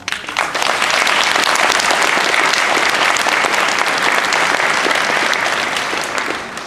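A large audience applauds continuously for several seconds, a dense loud clapping that starts abruptly and tapers slightly at the end.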